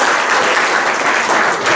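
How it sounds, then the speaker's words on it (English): A crowd claps in dense, steady applause, loud and continuous throughout. "Let's all give him a big round"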